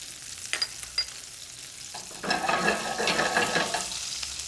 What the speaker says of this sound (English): I'll throw just a little touch of butter in. It's going to give us that brown butter,